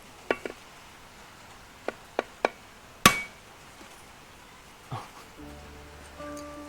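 Sharp knocks as a coconut is struck to crack it open: several quick separate taps, then one loud crack, then a softer knock, all close up against a quiet background.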